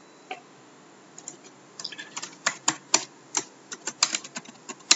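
SQL query keystrokes tapped on a computer keyboard, sparse at first and then quickening into a steady run of close, crisp clicks.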